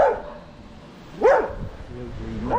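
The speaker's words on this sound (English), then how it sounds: "it's barking dogs in Spain" Small yappy dogs bark in Spain, a few sharp nearby barks spaced apart and fairly loud, with some background noise between them.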